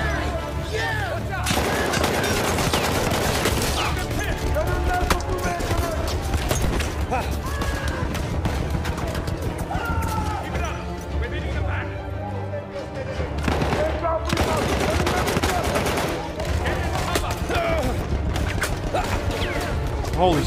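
Gunfire in the video game Battlefield 1, with dense continuous shooting and bursts mixed with loud game sound and music throughout, and a voice talking over it.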